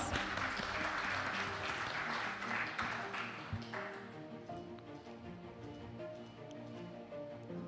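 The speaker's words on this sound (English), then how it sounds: "Round of applause." Applause from delegates at a banking and finance annual meeting, a brief burst of clapping that tapers after about four seconds into quieter scattered claps and room hum, fairly faint overall.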